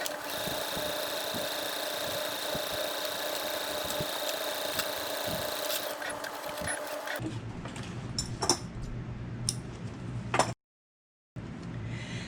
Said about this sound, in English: we're going to sew this edge at our 1/2 inch seam allowance